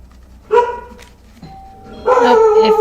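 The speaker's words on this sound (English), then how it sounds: "Sorry if you hear the doorbell." A doorbell chimes indoors with distinct ding-dong tones, the first ring short near the start and a louder, fuller ring at the end, while a dog barks around the chimes.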